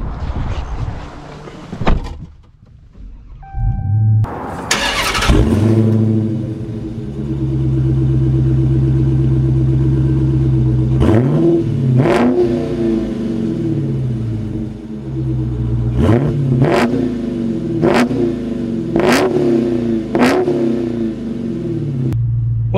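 A 2023 Dodge Charger Hellcat Redeye Jailbreak with an 807-horsepower engine starts after a door closes, then settles into a loud, close, rumbling idle punctuated by several sharp throttle blips and revs.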